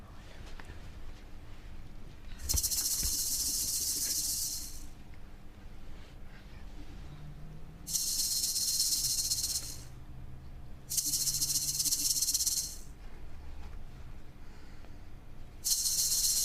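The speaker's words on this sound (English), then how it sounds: "he should hear the tone of this rattle, and he should be distracted by it" A baby rattle is shaken near a small child during a hearing check, giving four bright, hissing bursts of a few seconds each, separated by quiet pauses over low room noise.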